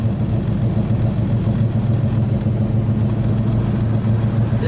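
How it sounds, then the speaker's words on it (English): Dashboard defrost blower fan in a 1963 Plymouth Belvedere runs steadily, a constant low whooshing hum with a droning engine-like tone, close and even with no talk. "The blower system in this car for the defrost is functioning"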